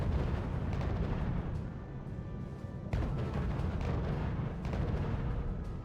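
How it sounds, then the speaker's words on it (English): Bombers drop their loads in the strategy game RUSE, a dense, continuous rumble of booming explosions with sharper bursts cutting through, loud and unbroken throughout with no talk. "Ah, there's bombers here already."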